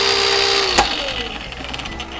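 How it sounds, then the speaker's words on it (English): A blender's motor whirs steadily as it chops food finely, then a sharp click ends it and the whine winds down into a short quieter rattle, all close and fairly loud. "we're going to do a quick blend on this"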